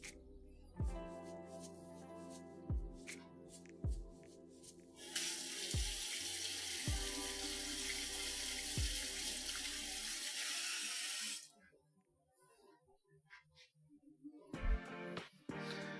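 Tap water runs steadily into a kitchen sink while a halved mushroom is rinsed under it, a continuous hiss of falling water with occasional knocks and thuds at the start, ending with quieter handling sounds once the flow stops.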